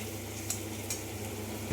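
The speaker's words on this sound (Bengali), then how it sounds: "মশলা যে পেস্টটা করে রেখেছিলাম, রসুন, আদা, পেঁয়াজ, গোটা ধনে, গোটা জিরের যে পেস্টটা করে রেখেছিলাম, সেটা তেলে দিয়ে দিলাম।" Paste of garlic, ginger, onion, whole coriander and cumin frying in oil in a pan while being stirred, a soft, steady sizzle with light scraping, faint and close, no talking.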